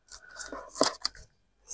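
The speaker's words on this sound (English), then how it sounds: "We'll cut this one out." Fabric is cut out with scissors in a few quick, close snips, crisp and fairly quiet, followed by a short pause of near silence.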